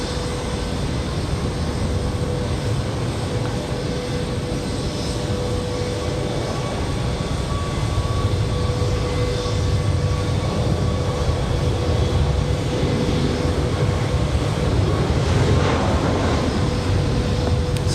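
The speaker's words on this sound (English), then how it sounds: "Copa Airlines going to give us a turn and burn here. Looks like a 737 MAX today." A Copa Airlines Boeing 737 MAX jet at Raleigh-Durham airport roars in a steady, loud, continuous rumble that swells slightly toward the end, with a whining engine tone running throughout.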